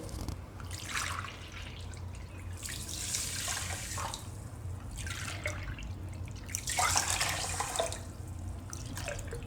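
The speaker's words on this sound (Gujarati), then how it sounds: "તો આમાં આપણે 3 કપ પાણી નાખીશું," Water is poured in several splashing bursts onto sugar in a pan to make a thin syrup for bread gulab jamun, each pour close and fairly loud over a low steady hum, with brief pauses between; nobody speaks.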